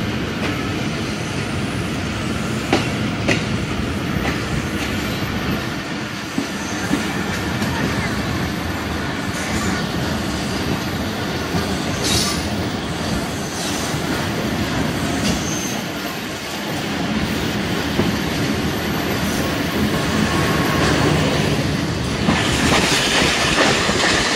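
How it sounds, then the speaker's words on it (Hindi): Musa Pak Express passenger train running on rails in Pakistan, heard from on board as a loud continuous rumble with rhythmic clickety-clack of wheels, occasional squeals and clanks, and some background voices. "हमारी ट्रेन निकल चुकी है ओकाड़ा से"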